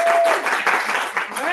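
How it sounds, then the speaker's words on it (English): Brief burst of clapping from a small group at a Toastmasters club meeting, over in about a second and a half, with a voice speaking over it. "can I hear a better round of applause?"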